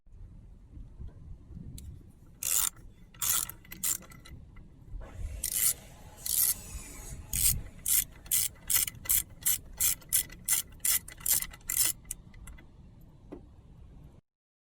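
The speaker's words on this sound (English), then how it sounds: "Undo the Allen bolt at the top of the device to remove the old pole" An Allen bolt undone with a ratcheting tool on a battery discharge guard, heard as close, dry clicking strokes in a regular rhythm that speeds into a steady run of ticks, then stops abruptly, with no talking.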